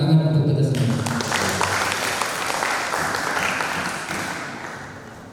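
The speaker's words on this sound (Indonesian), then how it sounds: "Tepuk tangan untuk kita semua." Audience applause at a Quran quiz competition, a steady burst of clapping that starts loud and gradually fades, with a brief spoken voice at the very start.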